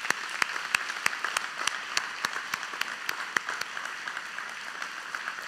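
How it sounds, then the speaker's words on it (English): A church congregation claps together in a steady, sparse rhythm of sharp hand claps over faint background noise, moderately near, with no one speaking. "Let's all just clap."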